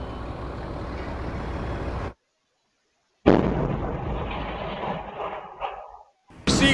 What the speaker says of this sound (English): A forceful blast causing catastrophic damage and multiple injuries at the Potomac Oaks condominium complex